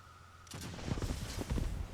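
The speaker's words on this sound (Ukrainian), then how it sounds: "Стріляють вони по бочкам." Gunfire at barrels in the real-time strategy video game Tempest Rising. After a quiet start, rapid clusters of faint, distant-sounding shots crackle and rumble continuously over the game's background audio.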